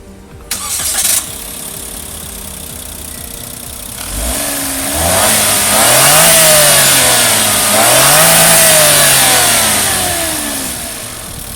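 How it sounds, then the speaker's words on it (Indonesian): Daihatsu Rocky with a 1000cc three-cylinder turbo engine cranking and catching, then idling and revving up twice in smooth rising-and-falling swells before settling, close and loud with a high turbo whine over the engine note. "Sekarang kita pengen denger dulu suara mesin 3 silinder turbo yang ada di Rocky ini."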